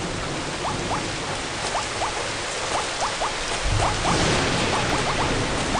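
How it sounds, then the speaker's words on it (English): Heavy, steady rain in the video game BattleBlock Theater pours down as a dense wash of noise, with faint scattered ticks of drops, and no voices. "This rain is loud."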